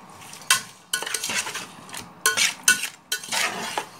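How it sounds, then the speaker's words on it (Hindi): A spoon scrapes and stirs mutton with garam masala in a metal pot for Hyderabadi dum biryani, making several distinct bursts of scraping and clinking separated by short pauses, close and unaccompanied by talk. "डाल के सभी अच्छे से मिक्स करूँगी"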